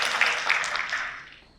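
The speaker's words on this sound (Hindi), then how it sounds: "ज्योति जी के लिए तालियां बजाइए।" An audience applauds at a business productivity and professional ethics event, a dense burst of clapping that fades steadily over under two seconds.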